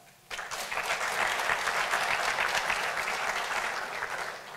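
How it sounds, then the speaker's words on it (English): Sudden onset of full applause from a conference audience at a crime prevention plenary session, many hands clapping densely and evenly, then gradually thinning toward the end. "So another round of applause"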